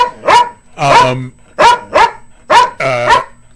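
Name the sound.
dog barking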